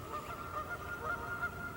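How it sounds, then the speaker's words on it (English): Geese honk outdoors near a lake during fly fishing, repeated nasal calls carrying from a distance, faint over a low, steady background. "you can hear the geese out there now"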